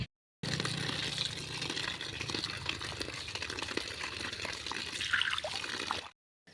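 Water drains and trickles from freshly washed fenugreek greens set aside to drip, a soft, continuous close dribble that runs evenly for several seconds with no talk, then stops.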